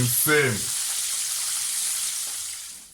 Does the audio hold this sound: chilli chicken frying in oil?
yes